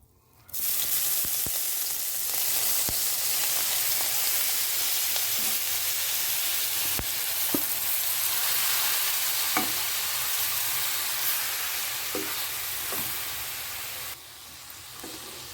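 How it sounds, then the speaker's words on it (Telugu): Grated pumpkin fries in ghee over a medium flame for halwa, a loud, continuous hiss of sizzling with scattered sharp clicks of a spoon stirring through the shreds, easing off slightly at the end. "ఇప్పుడు మీడియం ఫ్లేమ్లో ఈ గుమ్మడికాయ తురుమంతా చక్కగా వేయించుకోవాలి"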